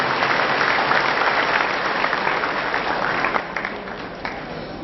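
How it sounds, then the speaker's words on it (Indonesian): An audience applauds at a national oration and Isra Mi'raj commemoration at Al-Zaytun, a dense, loud, continuous clapping that eases slightly toward the end. "Tepuk tangan untuk Ibu."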